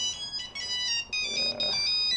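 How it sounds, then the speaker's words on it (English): A phone rings with an incoming call, its electronic ringtone repeating in several bright bursts with short gaps, fairly loud and close, with no talking over it. "I'm ignoring the phone call"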